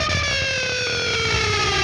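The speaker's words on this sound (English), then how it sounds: "So this is just a sixth string, another pick scrape," A slow pick scrape along the sixth string of a distorted electric guitar, from a song lesson: a loud, continuous, siren-like metallic whine with harmonics gliding gently in pitch, heard alone.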